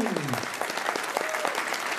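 Final round of applause from a country music concert audience at a hotel, dense and steady clapping from a crowd that continues through the whole short stretch, with a voice faintly heard underneath.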